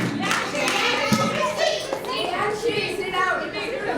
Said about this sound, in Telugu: క్లాప్ కొట్టాలి ఓ క్లాప్ కొట్టాలా సో గట్టిగా చెప్పండి కొట్టి క్లాప్